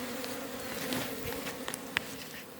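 Many honey bees buzz in a steady, close drone at a hive in spring, with occasional individual bees whizzing past.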